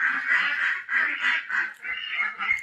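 Farm ducks quack in a close, busy chorus. Repeated nasal calls come in quick bursts with only brief gaps between them.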